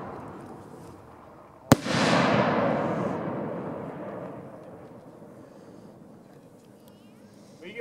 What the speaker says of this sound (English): Show off some of the 3-inch shells. First up, from the Freedom Extra Fancy 3-inch assortment.